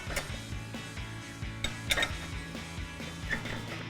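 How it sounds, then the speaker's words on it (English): A ratchet with an 18mm socket tightening the upper control arm ball joint nut on a 2011-2023 rear-wheel-drive Dodge Charger during a coil-over install: quick repeated clicking close by, with a few light metallic clinks. "Now we can go ahead and tighten down our ball joint nut on our upper control arm using our 18mm socket"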